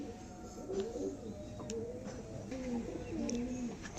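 White pigeons at a pigeon sale coo close by in a series of soft, rolling calls, the last few stretched longer, over a low steady room hum.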